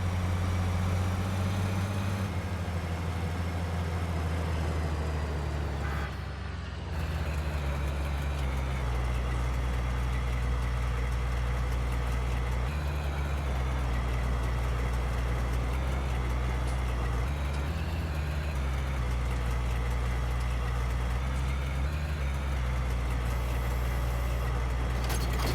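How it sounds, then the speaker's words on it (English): A farm vehicle engine in Farming Simulator 19 drones steadily throughout, a low, constant hum with slight shifts in pitch, heard alone without talk. "when you hear the engine going, that's actually just an artifact of the server lag"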